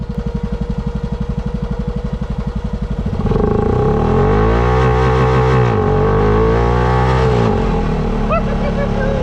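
A turbocharged Honda Pioneer 500 side-by-side idles with a rapid chugging pulse, then revs hard and loud, holding high rpm with wavering pitch as it tries to spin a tire, close by with faint talk underneath.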